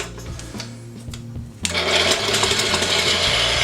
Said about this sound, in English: knead the dough for 6 to 8 minutes using the stand mixer